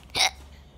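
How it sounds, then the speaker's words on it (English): A single sharp hiccup sounds close and fairly quiet in a brief moment, then fades into faint room noise. "I keep having hiccups all the time."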